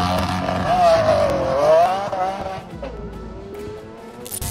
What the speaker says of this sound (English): Stay quiet and let your supercar make the noise.